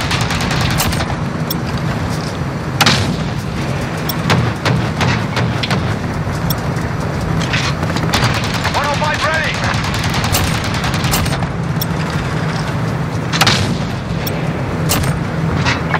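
Continuous loud gunfire in Call of Duty: Modern Warfare, with rapid bursts and heavy booms over a constant rumbling din, and voices talking in among the shots.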